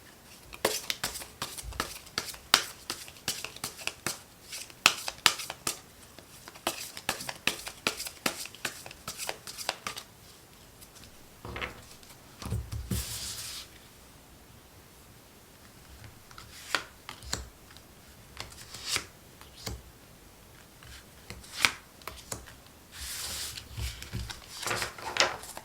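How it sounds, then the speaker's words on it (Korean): Tarot cards being shuffled and drawn, a dense run of quick papery riffles and slaps with short pauses, close and fairly soft, with no talking. "추가적으로 카드 뽑아볼게요."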